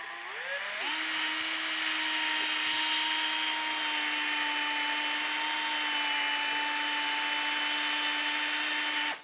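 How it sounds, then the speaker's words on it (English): Power buffer with a paint buffing pad applying semi-chrome to a vintage Porsche 356 hubcap, a steady high-pitched whine that spins up in the first second and holds constant under light pressure, then stops abruptly. "I'm going to put this on with kind of a paint buffing pad"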